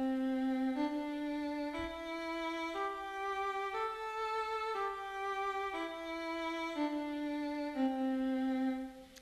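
A pentatonic scale of five notes plays as a series of consecutive pure tones, each held about a second, rising and then falling in an even, quiet sequence.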